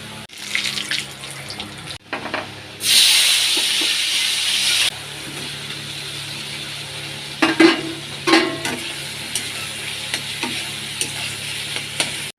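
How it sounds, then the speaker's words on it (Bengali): Cabbage is frying in a pan in a home kitchen: a brief loud rush of sizzling, then a quieter steady fry broken by a few utensil clatters. "আলু ভাজাটা নামিয়ে নেওয়ার পর বাঁধাকপিটা বসিয়ে দিলাম"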